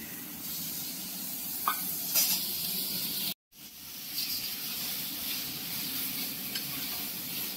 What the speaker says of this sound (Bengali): এবার দিয়ে দিচ্ছি চর্বি।